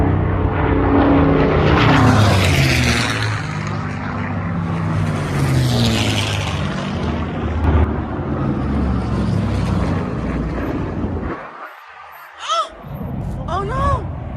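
Propeller aircraft roar close and loud at an airshow, engine drone sweeping in pitch as planes pass, with people shouting in alarm near the end.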